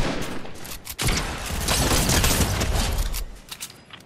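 Sustained video game gunfire, a dense volley of shots with a sharp crack near the start that builds into continuous loud firing and then thins into scattered shots at the end.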